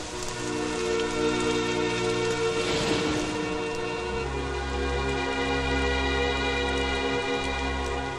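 Steady rain falls and patters on a surface, a soft continuous hiss heard fairly faint throughout, with a low droning hum running underneath.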